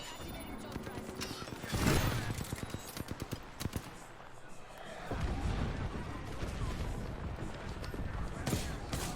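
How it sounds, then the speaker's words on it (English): Gunfire in the battle-royale game Apex Legends, with dense bursts of automatic shots and impacts crackling in rapid clusters around the middle and a busy, noisy firefight continuing behind a player talking throughout. "They're shooting at me."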